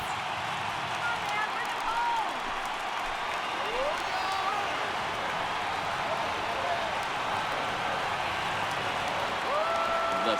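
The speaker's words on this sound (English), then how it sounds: "listen to this crowd now. They are really into this." A stadium crowd in the baseball video game MLB The Show 18 roars in a steady, sustained wash during a late rally, while a commentator talks over the noise.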